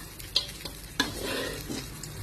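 Sizzling frying of duck in a wok with a few sharp metallic clinks as it is stirred, steady and close.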